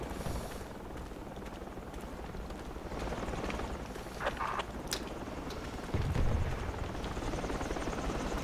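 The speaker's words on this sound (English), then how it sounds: "Do they have a trans helo coming in? No, it's going away." Transport helicopter in Project Reality BF2 flying at a distance, a steady low rotor drone that stays fairly constant throughout, with faint intermittent game sounds and no speech.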